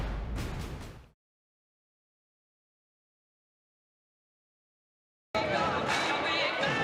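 Crowd noise at a Legends Football League game, Chicago Bliss versus Denver Dream, rises in two broad bursts, one brief opening swell and a later one, separated by several seconds of dead silence.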